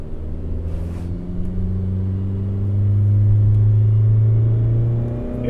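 A Chevy Sonic fitted with a ZZP air-to-air intercooler accelerates hard, its engine giving a loud, steady droning rumble that climbs slightly in pitch through a sustained pull, heard up close with no talking.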